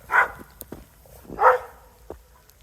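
A dog barks twice indoors, two sharp separate woofs about a second apart with small thumps and quiet gaps between.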